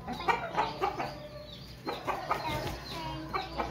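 Aseel rooster clucking at a Multan poultry market, quick uneven bursts of clucks repeating close by over a busy background of other birds.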